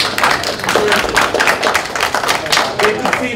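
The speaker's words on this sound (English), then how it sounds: "Another round of applause for SDI," Audience at an electronic engineering capstone project presentation gives a round of applause, a moderately dense, uneven clapping from a modest-sized room that continues for a few seconds.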